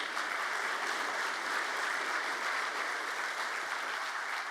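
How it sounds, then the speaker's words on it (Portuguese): An audience at a public security program event gives sustained applause, a steady wash of many hands clapping that sounds fairly distant and even throughout. "querido ministro Tasso Fernando Genro, a quem também peço uma salva de palmas."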